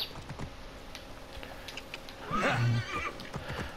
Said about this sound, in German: Nehmen wir erstmal super Pferdchen.